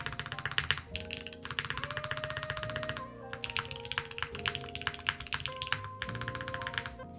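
Fast, steady typing on a Mode Encore mechanical keyboard fitted with solid green gaskets, dense close key clacks in continuous bursts with brief pauses, no talking.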